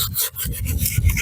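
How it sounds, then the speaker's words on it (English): A wooden outdoor chair being sanded along its rough edges: a steady, close scratchy rasp of abrasive rubbing over wood in quick continuous strokes, with no talking. "Now we're just going to sand off the rough edges."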